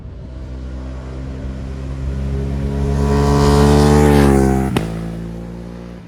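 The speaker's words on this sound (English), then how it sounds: "they go really fast, the motorcycles here" A loud motorcycle engine roars past on the Blue Ridge Parkway, rising in pitch and volume as it nears, then dropping sharply as it speeds away.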